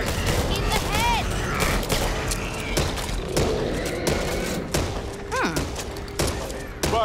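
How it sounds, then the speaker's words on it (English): Firecrackers pop in rapid crackling bursts amid gunfire in the Back 4 Blood video game, loud and dense over game sounds and shouted voices. "Firecrackers here."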